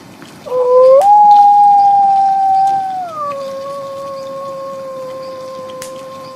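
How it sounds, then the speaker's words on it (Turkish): A single long, high wavering wolf howl during mating rises quickly, holds steady, then dips slightly lower and trails on, clear and fairly close over faint background noise. "çıkardığı ince ses, kurtların çiftleşirken çıkardığı ince ses"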